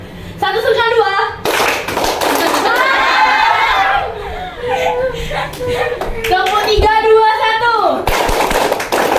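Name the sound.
class clapping in counted rhythm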